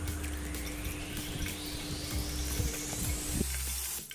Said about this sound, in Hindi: घी में थोड़ा पानी गिरने की वजह से इसमें ज़्यादा बबल्स बन रहे हैं।